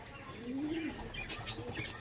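Andhra pigeons held in a hand give a soft, low coo with a faint chirp and slight rustling, close by, lasting only a couple of seconds.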